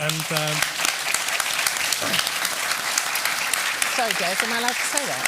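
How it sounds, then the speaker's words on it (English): Audience applause for conference panelists at a tech conference fills the whole stretch, dense and steady, while a nearby voice talks over it. "a big round of applause for our panelists"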